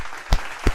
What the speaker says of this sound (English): I got to make y'all hear the clapping thing for that real quick